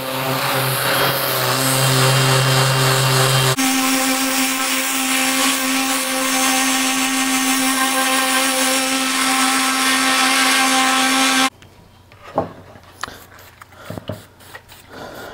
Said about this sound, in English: Gonna start sanding.